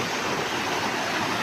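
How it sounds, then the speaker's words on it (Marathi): A river in full flow surges past where a fishing net is usually set, a steady, dense rush of water that holds constant and loud throughout with no voices. "त्याच्या थोडंसं पुढे नदीचा पूर्ण लोट येतोय ना"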